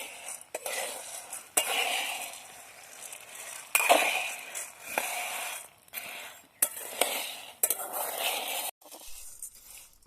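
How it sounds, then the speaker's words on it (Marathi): Soybeans dry-roast in a pan over a low flame while a spatula stirs them constantly, making repeated close scraping and rattling strokes in bursts separated by brief pauses. "आपल्याला सारखं हलवीत राहायचं म्हणजे आपली सोयाबीन ही चांगली भाजते"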